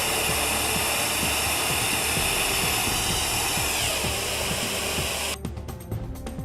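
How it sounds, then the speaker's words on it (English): Compressed air at 30 psi rushing through a 100-foot length of hose as it propels a golf ball, a loud continuous hiss with faint rattling, cutting off near the end to quieter knocks. "Watch as the golf ball is propelled through this 100-foot length of hose"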